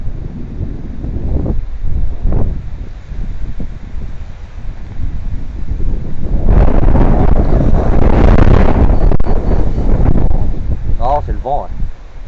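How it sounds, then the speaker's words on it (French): Strong wind buffets the microphone while fishing outdoors, a broad low roar that swells loud and steady through the second half, with voices talking near the start and briefly at the end. "Non, c'est le vent."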